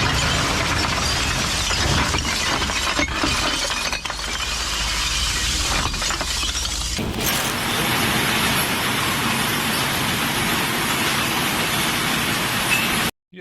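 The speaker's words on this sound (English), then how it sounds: "If you have taken your glass bottles to the recycling point, you may remember this is a sound very similar to what you heard." Glass bottles breaking at a recycling point: a loud, steady cascade of shattering and clinking glass, growing brighter and denser partway through, alone without voices.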